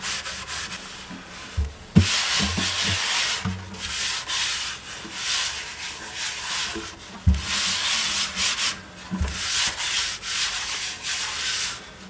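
Hand sanding of a wood finish between coats, heard as steady, close scratchy rubbing strokes in uneven bursts with a few sharp knocks, and no speech.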